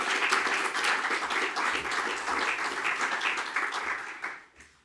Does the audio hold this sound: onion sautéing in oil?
no